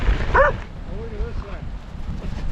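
Three stray dogs met by a touring cyclist give a short yip and high, wavering whimpers nearby, with a voice talking briefly under them outdoors.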